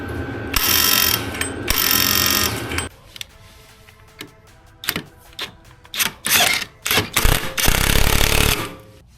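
A ratchet clicks in bursts while torquing down the variator and clutch on a Honda Navi scooter, loud and close, with rapid repeated clicking runs separated by pauses and a denser stretch near the end.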